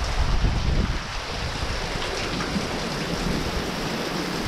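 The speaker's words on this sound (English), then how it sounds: "it's very windy and rainy and it's blowing in on me just a little bit." Strong wind and rain gust into an open carport, a loud broad rushing roar with low rumbling buffets, heaviest at the start and then steady throughout.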